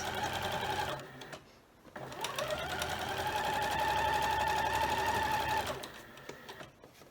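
A sewing machine stitching quilt blocks together for a scrappy quilt, a close, steady whirring hum in two runs separated by a short pause.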